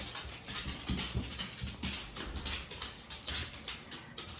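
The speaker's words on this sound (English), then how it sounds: "dog pitter patters" Dog paws pattering on a floor, a series of soft rapid taps in an uneven rhythm, close but quiet, with faint breathing and no voices.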